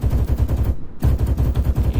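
PK machine gun in Arma 3 with the RHS mod, firing long rapid bursts of heavy, evenly spaced shots with a brief pause in the middle, loud and close.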